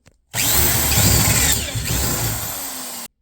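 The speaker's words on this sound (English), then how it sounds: "Drill the big holes." A power drill whirs steadily for about three seconds, loud and close, its pitch dipping briefly midway as the bit bites into wood while boring large holes for a toothbrush head holder.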